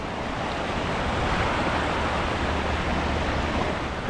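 River water runs over rock chutes of dolomite and diabase at low water, a steady, broad, close rushing hiss with no breaks and no voices.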